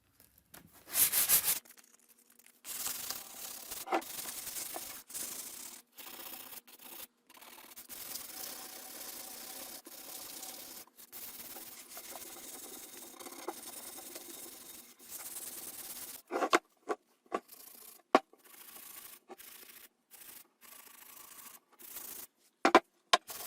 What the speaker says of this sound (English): I like to hand sand